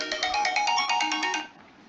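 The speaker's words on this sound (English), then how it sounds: "Sorry, my phone started ringing." A mobile phone ringtone plays a quick, bright, repeating melodic pattern of pulsed tones for about a second and a half, then stops. It is fairly loud and close, with no talk over it.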